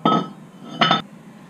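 On a 1991 Cadillac DeVille, a worn front brake rotor slides off the hub with two short, close metallic clinks, about three-quarters of a second apart, with quiet between them.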